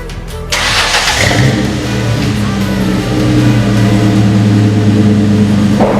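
A V6 Mustang with a homemade dual exhaust cranks and fires up, then settles into a loud, rumbling idle with revving, close to the microphone and with no talking.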